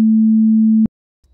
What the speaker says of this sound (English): we should hear that oscillator playing at 220 hertz